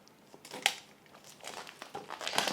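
Cardboard and plastic packaging of a Noise Colorfit Vision 2 smartwatch being opened, with faint, close crinkling and crumpling in short irregular bursts.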